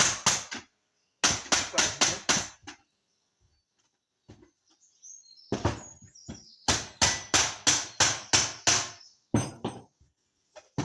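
A mallet strikes a wooden block in rapid bursts of four to six sharp knocks, the groups separated by short pauses, loud and close while fitting a small seeder wheel on an Agridrill.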